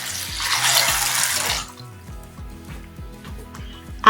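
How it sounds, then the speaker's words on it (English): Kidney beans are rinsed under a running kitchen tap: a steady close hiss of flowing water for about a second and a half, then the tap stops and a drip and faint knocks in the sink follow. "Wash them thoroughly and then drain."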